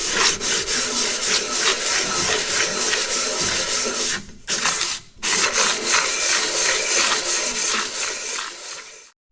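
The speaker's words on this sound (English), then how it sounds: "So after a few minutes of sanding" Steady abrasive sanding of a warped metal engine flange on a Farmall tractor, flattening it around three bolt holes; continuous rough rubbing strokes, close and loud, with two brief pauses midway and no talk.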